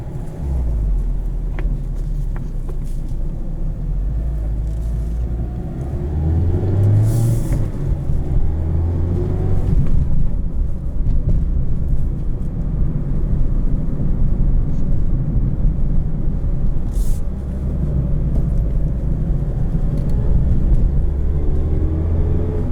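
Engine of a 2020 Mazda Miata RF with a 6-speed manual, a steady loud low drone from inside the cabin that rises in pitch as it accelerates, with a couple of brief shifts and road rumble.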